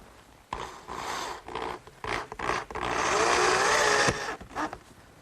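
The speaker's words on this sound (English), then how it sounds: "hold it in place with one of these quick release clamps and fasten it with a few screws" Screws driven into a wooden coffee table frame held by a quick release clamp, a loud sustained whirring drive-in burst broken by shorter scraping and rubbing bursts, close and with no talking.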